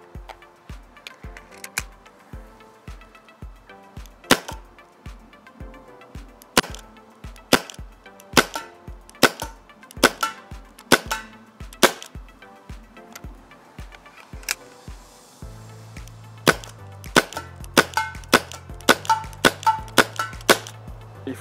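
A GI Menace cal.50 gun fired repeatedly in a test, a long series of sharp, dry snapping shots at an irregular but steady pace, close and loud, with a low hum joining near the end and no talking.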